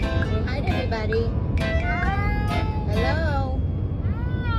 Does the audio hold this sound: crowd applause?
no